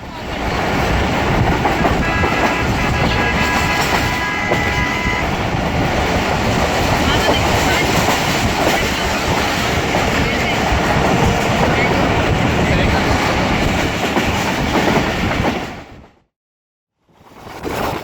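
The Sukkar Express passenger train rumbles along the rails near Karachi with a continuous loud roar and clatter, close and steady, before the noise suddenly cuts out briefly near the end.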